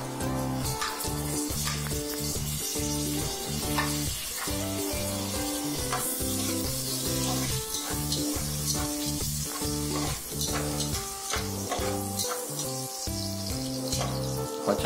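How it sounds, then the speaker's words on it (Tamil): Onions and green chilies sauté in a pan with a constant crackling sizzle, while rhythmic scraping and stirring strokes repeat close by. "பச்சை மிளகாய் ஆட் பண்ணதுன்னா அது கொஞ்சம் வெந்த உடனே மல்லி இலைய ஃபைன் சாப் பண்ணி வச்சிருக்க மல்லி இலைய அதோட ஆட் பண்ணிட்டு லைட்டா வதக்குற மாதிரி கிண்டிகிட்டே இருக்கணும்"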